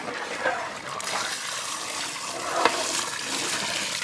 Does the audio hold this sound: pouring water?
yes